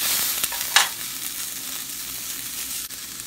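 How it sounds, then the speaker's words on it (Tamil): Onions and green chilies sizzle steadily in hot oil as they are sautéed for a Tamil-style potato masala, a dense continuous fry with a brief sharper crackle and stir near the start, no talking. "இதில் இப்போ பச்சை மிளகாவும் கருப்பிலும் சேர்த்து நம்ம வதக்கிக்கலாம்."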